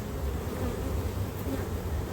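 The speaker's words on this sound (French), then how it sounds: "Il y a beaucoup de vieilles abeilles ici." Old, worn honeybees buzzing on a hive frame of brood, a close, continuous drone-like hum without pauses.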